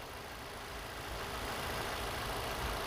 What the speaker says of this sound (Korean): 차 엔진 상태, 소리, 소음 정말 좋습니다